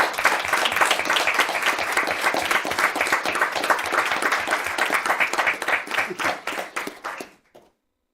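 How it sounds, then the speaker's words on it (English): A round of applause at a school district board meeting for academy graduates, many hands clapping steadily before thinning into scattered claps and stopping abruptly. "So let's give them a round of applause."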